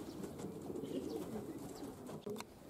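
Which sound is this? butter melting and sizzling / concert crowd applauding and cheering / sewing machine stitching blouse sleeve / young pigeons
young pigeons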